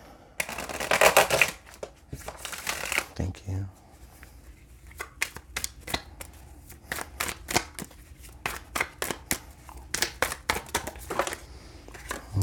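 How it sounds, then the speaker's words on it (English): A tarot deck is shuffled with crisp, rapid card riffles and snaps repeating throughout, with a brief spoken word near the start and busier rustling early on. "Let's get a good shuffle to clarify this reading for Aquarius."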